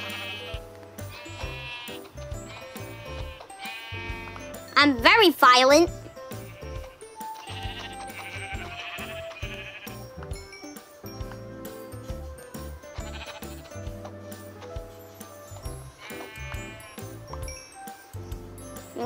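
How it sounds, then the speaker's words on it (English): Sheep bleating in the video game Minecraft, one loud wavering bleat standing out midway, with a person talking and game music playing throughout. "Okay, there is some sheep, so I am gonna kill them."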